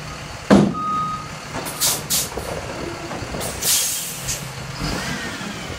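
A tractor-trailer truck backs away slowly after dropping the converter dolly, its reversing alarm beeping at intervals over a low idling engine, with hisses of air brake release.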